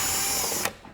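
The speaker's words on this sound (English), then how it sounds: "To have access to the drain bolt, you need to remove the oil pan cover, and you have 4 M13 bolts" A ratchet undoes an M13 bolt on the oil pan cover of a Mercedes GLC during a service. It makes a quick, close burst of clicking that stops abruptly.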